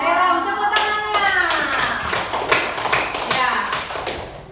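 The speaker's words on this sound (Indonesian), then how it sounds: "Tepuk tangannya." Classroom applause for the winning student group, a burst of quick hand claps and taps mixed with children's voices talking and calling out over it.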